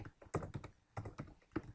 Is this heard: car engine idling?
no